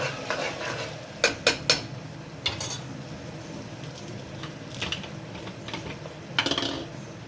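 Onions cooking in a pan for Gujarati papadi dal, with a spoon stirring and scraping against the pan in a few quick clinking bursts over a soft, steady sizzle.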